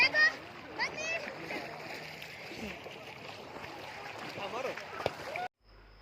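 Water splashing and sloshing at a pool during an anniversary party, steady and close, with children's voices and talk throughout and a sudden cut at the end.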